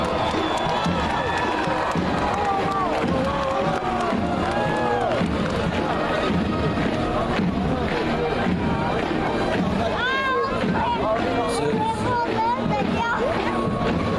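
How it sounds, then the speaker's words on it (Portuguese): A crowd at a civic military parade in São Paulo applauds and cheers the Brazilian Air Force, with dense continuous clapping and shouts mixed with a loudspeaker voice and crowd chatter. "Palmas para a Força Aérea Brasileira."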